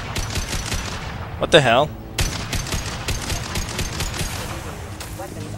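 Loud, sustained automatic gunfire in the video game Mass Effect 2, heard as rapid bursts of shots with a brief sweeping electronic effect partway through, under an excited voice exclaiming.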